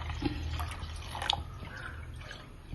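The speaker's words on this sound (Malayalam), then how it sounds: "ഇതിലേക്ക് നമ്മളൊരു മിൽക്ക് മെയ്ഡിൻ്റെ ടിന്നിൽ തന്നെ ഒരു 3 കപ്പ് വെള്ളം ഒഴിക്കാം." Water is poured from a condensed milk tin into a cooking pot of milk for payasam, giving soft drips and a light trickle with a few small splashes, quiet and close over low room noise.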